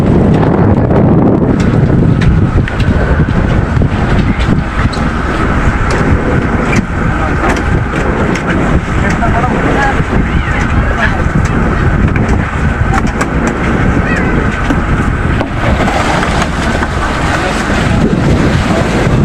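Strong typhoon wind buffets the microphone outdoors, a loud, continuous roaring rush with gusty surges throughout, while people talk now and then beneath it.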